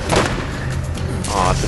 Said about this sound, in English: Why don't you use your two-hit rocket launcher